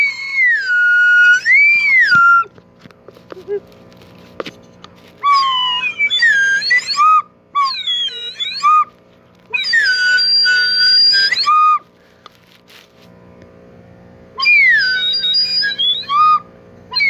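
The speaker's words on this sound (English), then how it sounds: "Try the slide whistle." Slide whistle from a vintage Fisher-Price Crazy Combo horn set plays in several separate bursts, its pitch swooping up and down in glides, fairly loud with short gaps between phrases.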